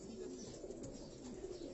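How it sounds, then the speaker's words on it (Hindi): Kamgar breed pigeons at a Karachi loft cooing softly and steadily, a low murmuring throughout with faint background noise. "उस्ताद हाजी मोहम्मद यूसुफ साहब के घर के ये कमगर ब्रीड के ये कबूतर"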